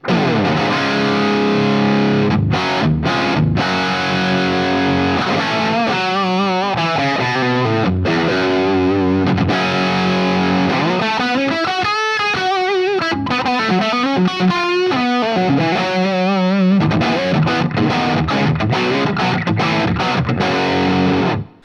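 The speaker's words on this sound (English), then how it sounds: "let's hear this bridge pickup a little bit. It's called the Epiphone Pro Bucker Custom." Loud distorted electric guitar on an Epiphone Les Paul Custom's Pro Bucker bridge pickup plays continuously, alternating chugging chords and bending lead notes with a thick, crunchy overdriven tone and no talking.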